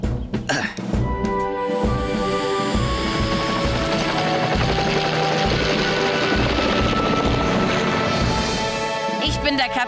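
Cartoon helicopter from Fireman Sam flying, a steady rotor and engine drone that fills the whole stretch at close range, with voices and music from the animated show running over it.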